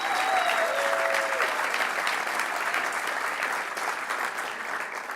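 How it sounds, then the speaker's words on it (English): A large audience at a nonprofit fundraising gala gives a roaring round of applause, dense continuous clapping filling the room that fades slightly toward the end. "Let's give The Standard one more roaring round of applause for the commitment to this work."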